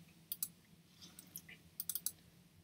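Sharp, close computer mouse clicks sound in a quiet room, a few isolated single clicks followed by a quick cluster of four or five clicks as account details are filled in online.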